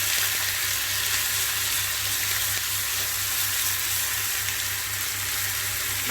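Grated onion and curry leaves fry in a pan for a Kerala barracuda fish masala, giving a loud, steady, continuous sizzle with no pauses and a low hum beneath it.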